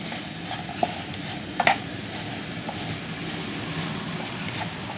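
Fried cauliflower tossed and stirred in a pan for a roadside-style Tamil cauliflower dish: a steady, close frying hiss with a few soft scraping clicks from the spoon, no voices.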